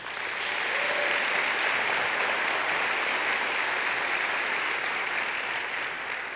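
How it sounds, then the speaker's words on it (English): An audience at a Long Beach State of the City address gives a round of applause, steady dense clapping from a large crowd heard on its own without talk. "that deserves a round of applause."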